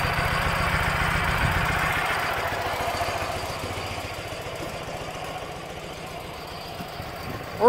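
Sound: 2006 Ural Troyka sidecar motorcycle engine running

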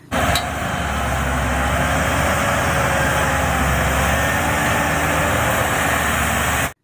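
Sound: tractor engine

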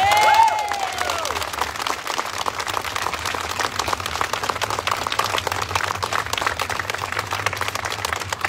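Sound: crowd applause for a journal

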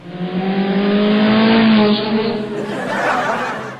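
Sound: fart imitating a race car

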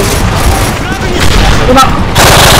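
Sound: dual guns firing in the video game Call of Duty MW3

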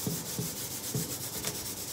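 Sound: sanding the surface of an old suitcase by hand

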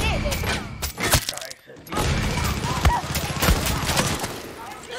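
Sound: pistol gunfire in the video game Far Cry 6

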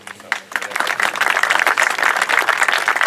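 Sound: audience applause at award ceremony

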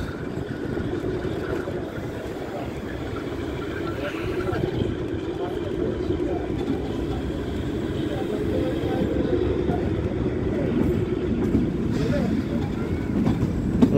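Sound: Kalka–Shimla toy train running past Dharampur station

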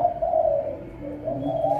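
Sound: pet turtle dove cooing

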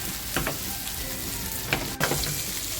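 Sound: gently stirring silver barfish frying in pan

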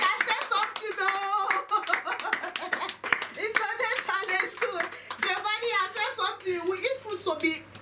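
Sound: people clapping for a child

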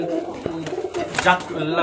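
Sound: male Giribaz pigeon cooing

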